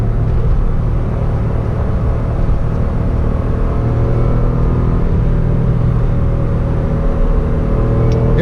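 An Acura NSX engine pulls steadily in third gear along a mountain road, a loud, constant low drone and hum with a rising tonal note, heard from inside the car without talk.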